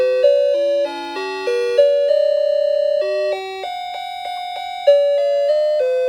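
A tabletop mantel clock of unknown make chimes Beethoven's Für Elise as a bright electronic square-wave melody, clear steady notes stepping up and down for several seconds, close and loud with no talking.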